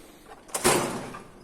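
A drawer in an anaesthesia supply cabinet slides open with a short rolling scrape that ends in a soft bump, heard once, close and alone.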